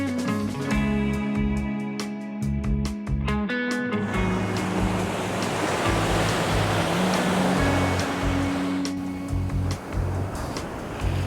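Ocean surf rolling in at Bacocho Beach in Puerto Escondido, Mexico, a loud, continuous wash of breaking waves with a steady roar throughout, and a tonal engine-like hum underneath in the first few seconds.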